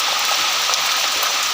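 Heavy rain falls in a steady, dense hiss of countless drops striking surfaces, loud and close, continuous throughout with no voices.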